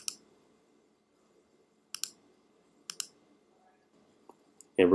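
A few sharp computer mouse clicks, single and doubled, are spaced out over a quiet background while someone works through a Linux tutorial on a computer, close and fairly faint.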